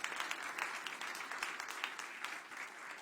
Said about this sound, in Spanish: Así que desen un aplauso